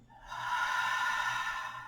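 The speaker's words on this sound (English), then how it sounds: "Let's take a deep breath together, belly expanding." A deep breath exhaled slowly out through the mouth during a guided deep-rest meditation, one long airy sigh lasting nearly two seconds, close to the microphone.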